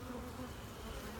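Honey bees hum steadily at an open hive during maintenance, a dense close swarm drone.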